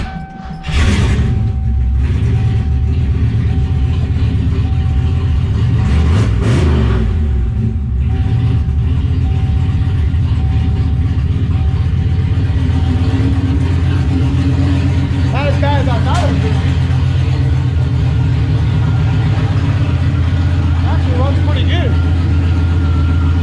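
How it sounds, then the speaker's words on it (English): Turbocharged Ford Foxbody with a GT40 stock-block engine and big injectors cranks, fires, and settles into a loud, steady idle with a lumpy low rumble, close up, with people talking over it. "We're gonna go ahead and fire it up."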